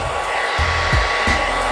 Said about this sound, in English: So right now I'm going to blow dry the hair.